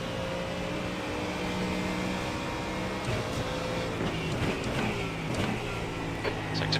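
A Mustang GT3 race car engine drones steadily at speed in a racing video game, a constant, moderately loud mechanical hum with slight rises in pitch and no speech.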